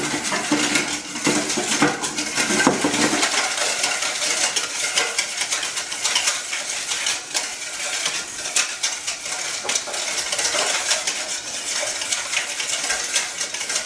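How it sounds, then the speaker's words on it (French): A vinaigrette with pepper is whisked briskly in a bowl, giving a continuous close clatter and scraping of metal against the dish for the whole stretch, with no talking. "Et on fait juste fouetter le tout pendant quelques instants."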